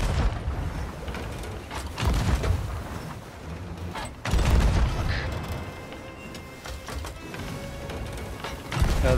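Heavy booming cannon fire and creaking wooden mechanisms during a ship battle in a pirate video game, with repeated loud low thuds around two, four and nine seconds over a steady noisy background.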